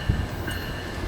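An Amtrak train pulls into Fullerton station, heard as a steady low rumble with a faint metallic whine above it, continuous and fairly close for about a second, no talking.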